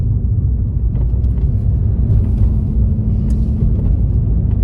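A car drives slowly through a width restriction on a driving test route near Watford, heard from inside as a loud continuous low engine and road rumble with no talk.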